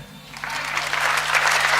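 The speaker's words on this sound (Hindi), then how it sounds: "ये देखो सलवार सूट वाले ताली बजा रहे भाई साहब" Audience applause at a Hindi poetry recital, a loud, close burst of clapping that swells and holds steady, with a low steady hum beneath.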